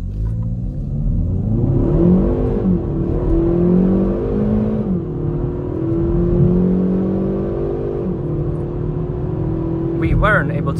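A Kia Proceed GT with a 1.6 T-GDI 204 hp engine accelerates hard down a straight, its engine note rising steadily through the gears with a loud, close cabin rumble and no talk.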